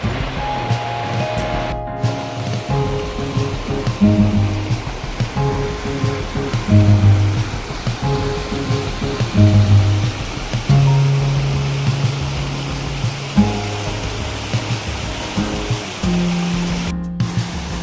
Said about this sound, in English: this waterfall is really going